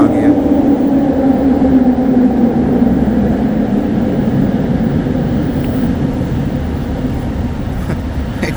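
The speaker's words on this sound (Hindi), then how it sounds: "ट्रेन आ गई है।" A train arrives at a station in Malaysia, giving a loud, steady rumble and rolling roar that holds for the whole stretch and eases slightly toward the end.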